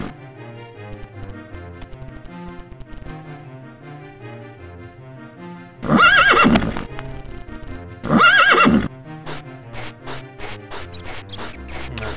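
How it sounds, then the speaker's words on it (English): In the video game Daggerfall, a horse gives two loud, close whinnies over a steady run of rhythmic clip-clopping hooves that continues alone before and after. "Bit of an audio bug with the horse there."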